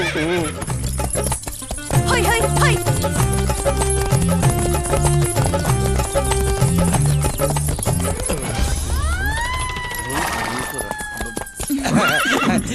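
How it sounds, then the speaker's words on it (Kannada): Rhythmic hoofbeats of a galloping horse clatter along with loud whinnies, all over dramatic music and sweeping sound effects. "ಸೂಪರ್ ಆಗಿ ಕುದುರೆ ಓಡಿಸಿದ್ರಿ"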